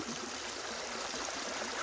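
Rainwater flows across a flooded road in a broad, steady rushing wash of water, constant and fairly close, with no voices.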